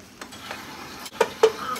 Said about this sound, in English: So I'm going to make my roux here